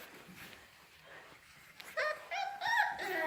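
Several puppies whimper and let out short high yips and barks at close range, sparse and faint at first, then a louder run of overlapping cries in the second half.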